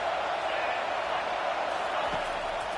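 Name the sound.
stadium crowd roaring in College Football 25 video game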